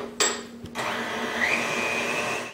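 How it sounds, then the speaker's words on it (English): A freestanding mixer with a paddle attachment beating softened unsalted butter at medium speed for a banana cake, a steady close motor whir starting after a brief knock, with no talking. "In the bowl of a freestanding mixer fitted with the paddle attachment, beat 4 ounces of softened unsalted butter on medium speed"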